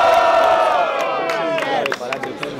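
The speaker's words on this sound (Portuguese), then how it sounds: "Barulhos, barulhos pra quem gostou das rimas do Shade" A rap battle audience at a student freestyle event roars and shouts in a loud, sustained burst of cheering, with whoops and scattered claps as it tails off.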